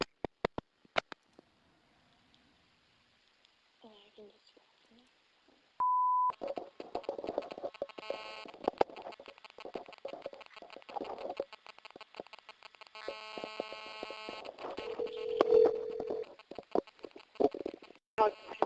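A telephone call attempt on a phone line: a brief steady tone sounds, then a long run of rapid electronic beeps and tones with a later sustained tone, faint clicks before it and some talk mixed in.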